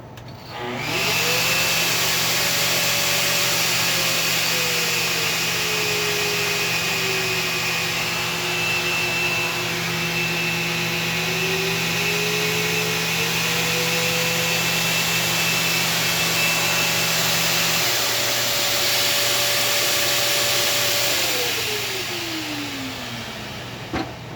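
A Festool DTSC 400 cordless sander runs with dust extraction hooked up, a steady loud whine and hum that sweeps in pitch as its speed or airflow changes, holding for about twenty seconds before winding down.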